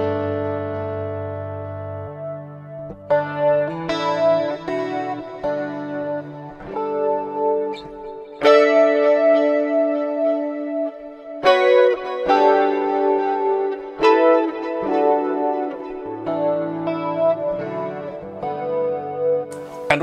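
Clean electric guitar through a double chorus effect for 80s tones, playing loud chords and melodic lines with a wide, shimmering, swirling wash and ringing sustain, alone without talk.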